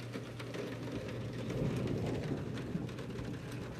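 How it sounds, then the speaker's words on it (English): Steady rain pours down, a dense continuous hiss with scattered drops pattering nearby, no voices. "Yeah, it's definitely raining."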